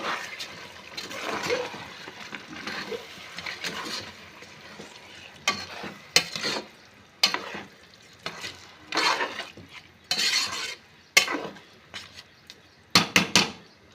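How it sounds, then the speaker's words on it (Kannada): A spoon scrapes and stirs rice through a pot for chicken biryani, in irregular bursts of gritty scraping over a faint background sizzle. "ಸೇರಿಸಿ ಚೆನ್ನಾಗಿ ಮಿಕ್ಸ್ ಮಾಡ್ಕೊಳ್ಳಿ"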